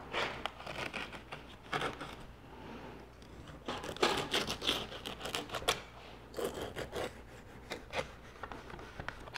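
A tool cuts away clay from a three-part press mold, making short scraping, rasping strokes in irregular bursts with brief pauses, close and fairly quiet.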